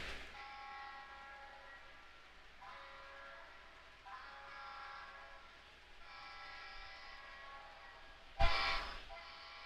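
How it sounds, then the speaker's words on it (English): An EMD SD45 locomotive horn sounds in several faint, sustained blasts separated by short gaps, over a low rumble, followed by a sudden sharp noise near the end. "That's my SD45 horn."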